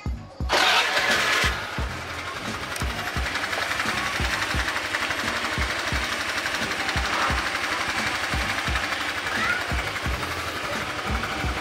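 Honda Vario carbureted scooter fitted with a PE24 carburetor, revving hard with a loud, steady buzzing engine note and rapid repeated pulses throughout, no talk over it.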